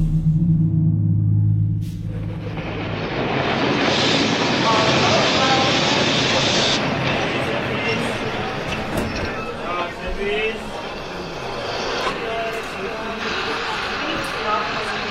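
Train arriving at a small station, rendered as an audio drama effect: a heavy rumbling approach that swells, then a sustained roar with hissing bursts and clanks continuing throughout.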